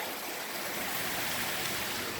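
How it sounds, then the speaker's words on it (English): Mountain springs and streams in the woods running full after days of heavy rain, a steady close rushing and gurgling of water with no break and no voices. "all the springs are flowing."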